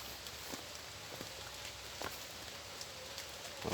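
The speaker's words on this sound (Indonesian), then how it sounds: "walaupun hujan kawan" Rain falls over a mangosteen orchard as a faint, steady hiss, with a few sharper drops landing now and then and no voices.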